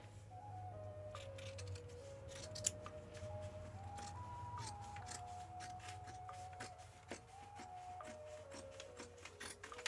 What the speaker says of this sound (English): I love a good sharp sewing scissor, snipping its way